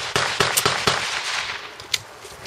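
Several sharp gunshots in quick succession, loud and close, a quick run of four or five reports followed by a fainter one a moment later.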